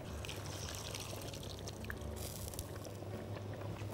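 A cup of hot water is poured into a pan of kofta in tomato sauce, a soft continuous splashing and trickling heard quietly and close.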